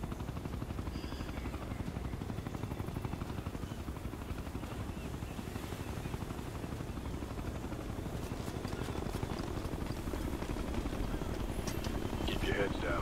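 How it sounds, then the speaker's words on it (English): An enemy helicopter in Ghost Recon Future Soldier thrums continuously with a rapid, even rotor chop, loud and unbroken throughout, swelling slightly toward the end. "If that chopper spots us, it'll get messy real fast"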